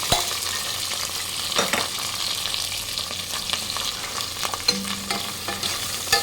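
Prawns fry with onions and chilli in a pan for Godavari-style prawn biryani, giving a steady hissing sizzle with occasional stirring scrapes and clicks, fairly close and moderately loud.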